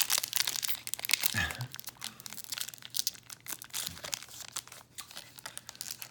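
The crinkly plastic wrapper of a 2003 Upper Deck Disney Treasures trading card pack is opened by hand, with close, continuous crackling and crumpling and a few sharper tearing bursts.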